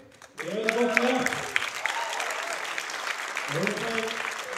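Applause from the crowd at an Icelandic deadlift championship awards ceremony, steady clapping filling the room while someone speaks over it at the start and again near the end.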